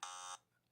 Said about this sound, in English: get the buzzer app back up